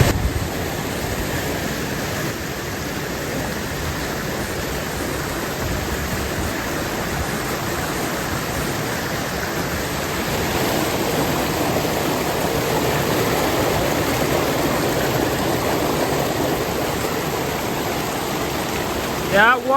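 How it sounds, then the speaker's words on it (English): A waterfall and cold stream rush with a loud, constant broadband roar at close range in a park outside town, steady throughout and slightly louder in the second half. "I love waterfalls, you guys."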